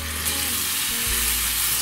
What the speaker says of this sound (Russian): Разгреваем маслице, забрасываем минут по 7 с каждой стороны, дайте ей поджариться прям,